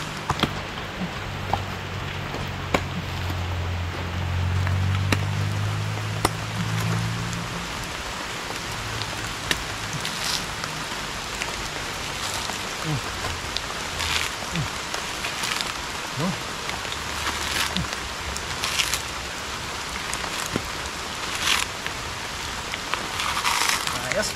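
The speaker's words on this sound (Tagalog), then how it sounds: "Lumakas ang ulan." Heavy rain pours steadily, a dense hiss of drops with scattered sharper patters, and a low murmur of voice briefly near the start.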